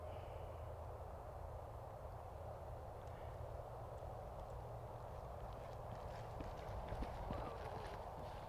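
Reining horse loping on its right lead in an arena, soft rhythmic hoofbeats at a distance under a constant low ambient rumble, faint and steady throughout.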